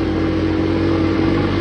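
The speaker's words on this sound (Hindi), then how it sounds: "मोटरसाइकिल की आवाज़ आती रड़ती पई है" A motorcycle engine drones steadily and loudly at close range during a bike ride toward Fort Munro, a constant hum with no voices.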